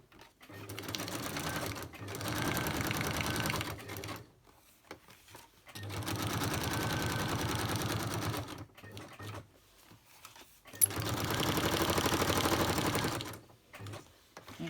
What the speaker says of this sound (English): I'm going to stitch this last pocket